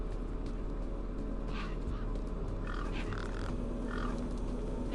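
Several birds squawk and caw in bursts within a continuous rumbling game soundscape in Beyond A Steel Sky on PlayStation 5, the calls scattered and moderately loud over steady low background noise.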